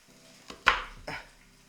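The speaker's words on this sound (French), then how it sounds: "Donc je vais couper les oignons." A knife chops onions on a board in a short burst of three sharp, close knocks spaced unevenly over under two seconds.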